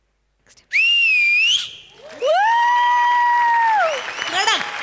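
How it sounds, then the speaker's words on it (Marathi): Loud applause and cheering from a comedy show audience, with shrill sustained whistles cutting through and sliding in pitch, then more whistling over the clapping. "जोरदार टाळ्या जोरदार टाळ्या"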